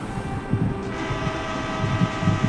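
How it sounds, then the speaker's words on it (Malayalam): A train in an Indian open-world video game rumbles past with a steady, loud mechanical drone and faint rhythmic clunks of wheels over rails. "അയ്യോ ആണ് ഇപ്പം പോവും ട്രെയിൻ"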